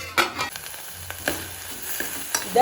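Orange peel stirred in a pot while cooking for candied peel, giving a few scattered scrapes and soft clatters with a light bubbling simmer beneath, moderately quiet and close, with no talk.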